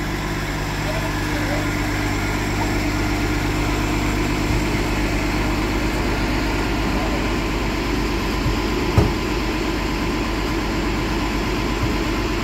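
A Disney resort bus idles with a loud, steady low engine rumble, close by and constant, with people talking over it and a brief knock partway through.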